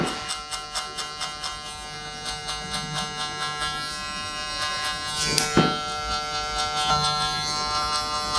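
Electric hair clippers buzz steadily up close while giving a buzz cut, their drone pulsing in a regular rhythm as they pass through the hair.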